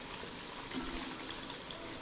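Vadas made from peas frying in a pan of hot oil until golden, a continuous close sizzle and bubbling crackle, with a slightly louder burst of spitting midway and no one speaking.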